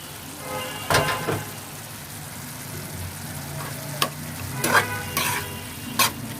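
Tomatoes and capsicum fry in a pan for a Bangladeshi shakshuka, a soft steady sizzle punctuated by a few distinct scraping stirs spread across the stretch.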